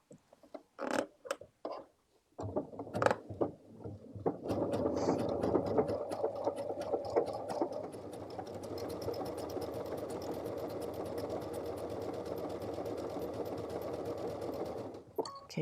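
Sewing machine stitching Bobbinworks embellishment with raised tension and longer stitch length: a few short clicks and taps, then a long, close, steady mechanical hum with fast rhythmic needle chatter that stops abruptly at the end.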